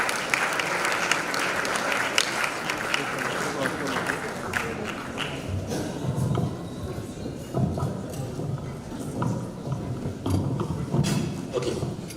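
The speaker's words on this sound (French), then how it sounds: "Est-ce qu'on peut acclamer pendant qu'il est en train d'avancer?" A church audience applauds continuously at a bishop's 60th birthday celebration as he walks forward, loud at first then thinning into scattered claps under background voices.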